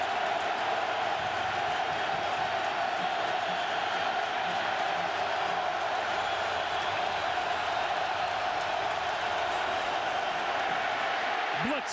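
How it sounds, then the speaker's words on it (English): Football stadium crowd at a Steelers versus Ravens game, a loud, steady roar of many voices that fills the whole stretch without letup. "Listen to this crowd."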